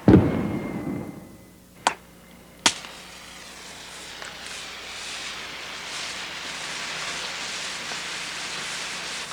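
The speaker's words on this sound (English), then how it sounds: "I have struck an ordinary highway flare, a kind of slow-burning firework" An ordinary highway flare is struck with a rough scrape, then a couple of sharp cracks follow before it settles into a steady, soft hissing burn.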